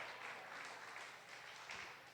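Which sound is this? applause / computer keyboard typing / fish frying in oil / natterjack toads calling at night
applause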